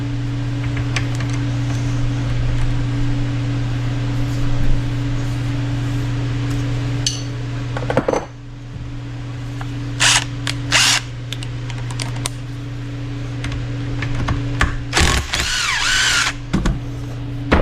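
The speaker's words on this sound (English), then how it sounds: "we have to get this hex bolt loose in the bottom." Power tool whirring in bursts while loosening a 10 mm hex bolt at the bottom of a 1983 Yamaha IT 175 motorcycle fork, over a steady shop hum, with short sharp spurts and clicks near the end.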